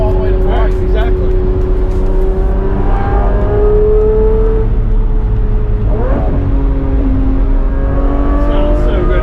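A 1,500-horsepower twin-turbo Dodge Viper engine revs repeatedly, rising and falling in pitch with a steady deep rumble underneath, loud and close.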